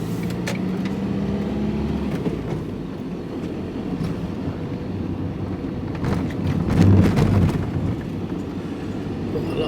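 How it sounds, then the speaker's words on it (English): Road traffic passing a van on the road, a continuous low rumble of engines and tyres that swells into a louder pass near the end, steady and fairly close. "Got a lot of traffic going out."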